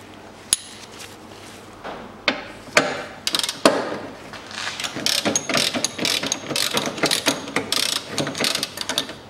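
A hand ratchet works on 12 mm bolts holding the battery tray of a 2005 Mitsubishi Minica 0.6, giving close, bursts of sharp clicking with small knocks and pauses between turns.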